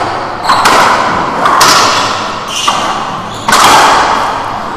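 A racquetball is struck with a racquet during a men's singles match at a world championship, heard as several sharp, loud thwacks echoing around an enclosed court, spaced about a second apart.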